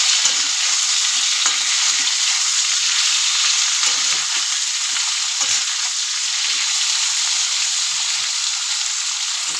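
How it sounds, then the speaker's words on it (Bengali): Potato and eggplant fry in a pan, producing a loud, continuous hissing sizzle close up, broken by soft scraping stirs, with no speech. "ভালো করে ভেজে নেব।"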